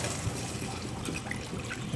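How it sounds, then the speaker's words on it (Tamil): Water is poured into a pot of nombu kanji, a rice porridge, making a soft, close trickle and splash that carries on steadily throughout at low volume. "கொஞ்சம் தண்ணி ஊற்றிக்கிறோம்."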